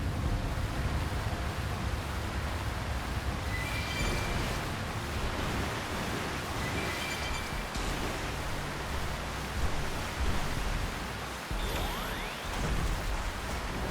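A waterfall in the Xenoblade Chronicles X video game rushes as a steady, dense roar throughout, with a few faint, brief chiming tones above it.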